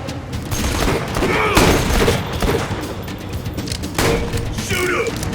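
Constant gunfire in the shooter video game Borderlands 2 forms a dense, loud barrage of rapid shots and booms, with a shouted voice now and then over the battle.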